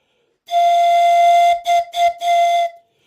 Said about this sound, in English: Tornado blew his whistle hard.